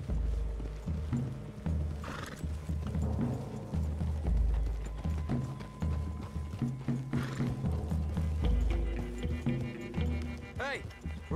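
Horses gallop in Red Dead Redemption 2, with rapid hoof clops and an occasional whinny running under voices talking throughout.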